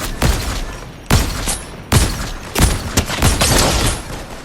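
Gunfire in the Fortnite video game: several loud, sharp shots spaced roughly a second apart, each followed by a short crackling decay, with no talking.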